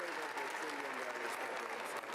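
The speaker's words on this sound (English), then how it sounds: "why are you clapping for that?" An audience applauds during a presidential inauguration speech, with steady dense clapping at a low, distant level and some voice mixed into the crowd sound.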